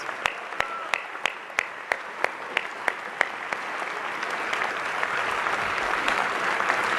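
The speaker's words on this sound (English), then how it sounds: "I think we all owe Al Smith a great, great round of applause." A large crowd at the Alfred E. Smith Memorial Dinner in New York applauds warmly. A few distinct claps lead into a swelling, steady wash of clapping that holds to the end.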